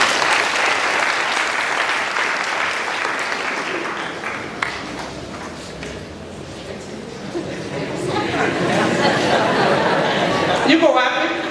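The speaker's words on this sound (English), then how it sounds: "Can we please give her a clap?" An audience at a university celebration for finalists claps loudly and continuously, the dense applause thinning a little midway before swelling again, with chatter and laughter running beneath it.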